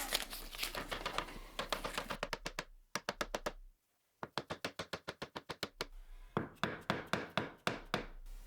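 A wooden floating shelf is tapped into place with rapid, evenly spaced knocks in several runs separated by short pauses, sharp and close.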